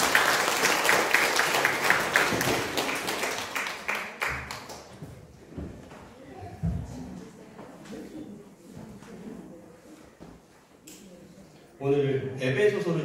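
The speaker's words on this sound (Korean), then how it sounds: "박수 한번" Congregation applause on Children's Sunday at a countryside church in Namyangju, a full burst of clapping for about four seconds that tapers off into scattered claps, followed by a speaking voice and room noise.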